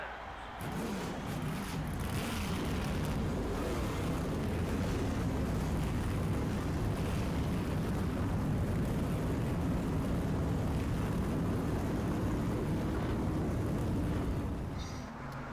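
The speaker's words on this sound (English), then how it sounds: "Gentlemen, start your engines." Race car engines fire up and roar together at the start of a NASCAR Thunder 2004 race at Talladega, a dense, steady, loud engine rumble that carries without break for the whole stretch.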